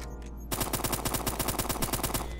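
Rapid automatic gunfire in a Roblox online shooter game styled after Overwatch, a steady burst of evenly spaced loud shots, roughly a dozen in two seconds, starting abruptly after a brief quiet moment with no talk over it.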